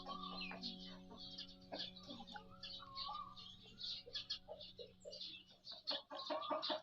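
A black-green Thai gamecock of the Yiar type, about six months old and 2.5 kg, gives repeated soft clucks and short calls, close by with a steady low hum behind.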